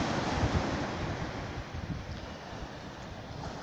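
Sea waves wash continuously onto the shore under a light breeze, a steady broad rush with gentle swells rising and falling throughout.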